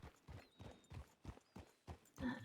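Horse hooves in a video game, a regular clip-clop of evenly spaced hoofbeats at a walking pace, faint and distant, with a brief whinny-like sound at the end.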